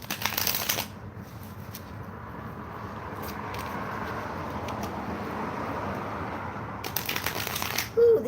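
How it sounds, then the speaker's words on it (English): A Rider-Waite tarot deck is shuffled by hand, with a soft papery riffle at the start and again near the end. Quiet room hiss fills the gap between them. "And we'll go ahead and shuffle these. This is the Rider-Waite deck."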